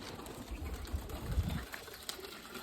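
Pet pigeons coo softly and repeatedly at close range, low murmuring calls over a dull background hum.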